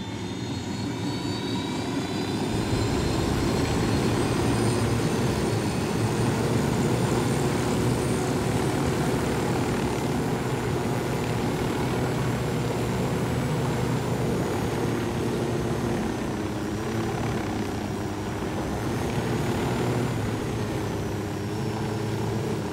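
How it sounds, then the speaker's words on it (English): A helicopter flies in the game Ghost Recon Wildlands, a loud continuous engine and rotor drone with whining high tones that holds steady and close for the whole stretch, with no talk. "Hola, Yankee. We got your chopper."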